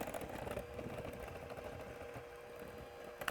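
Electric mixer beaters whirring steadily in a bowl of batter, a continuous close motor hum at low volume, with no talking.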